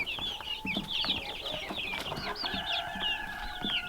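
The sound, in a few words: Rhode Island Red and Buff Orpington chicks clucking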